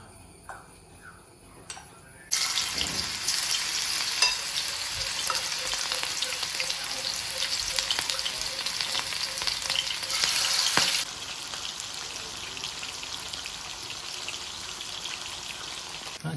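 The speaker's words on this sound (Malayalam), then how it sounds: "ഇത് നമുക്ക് എണ്ണയിലേക്കിട്ട് വറുത്ത് കോരാം." Marinated chicken pieces coated in ginger-garlic paste go into hot oil for Chicken Kondattam, setting off a sudden, loud, steady sizzle and crackle that persists without pause and eases slightly toward the end.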